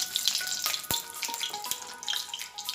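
Bay leaf and dried red chillies fry in hot oil, crackling and sizzling close by in sharp pops over a bright hiss, with no talk.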